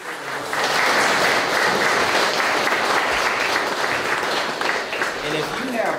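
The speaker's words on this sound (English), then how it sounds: "Let's give Marcia a big round of applause" Audience applause at a talk, a dense sustained clapping from a crowd that swells in after a brief moment and continues steadily at full strength throughout.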